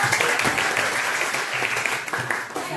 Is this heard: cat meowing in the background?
no